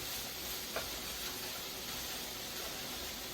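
Fresh deli hamburger meat warms in an oiled pan, giving a steady, quiet sizzle with faint crackles and an occasional small pop throughout.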